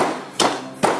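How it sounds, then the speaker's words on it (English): Biscuits being hammered for chocolate brownies, two sharp, close knocks about half a second apart, each with a brief crunching ring over a quiet room. "hammering the biscuits"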